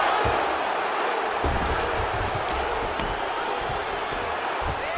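Arena crowd noise from the UFC 5 fighting video game, a steady, moderately loud roar of spectators with scattered louder cheers and thuds, no clear speech over it.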